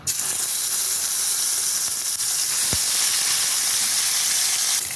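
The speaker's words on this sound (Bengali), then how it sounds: "এখন আমি এই মাছটা কড়াইতে ছেড়ে দেবো, ভালো করে একটু ভেজে নেবো মাছটা।" Small pool barb fish (swarna punti) sizzling loudly in hot oil in a kadai, a dense, steady hiss and crackle throughout, with one sharp knock partway through; no talking.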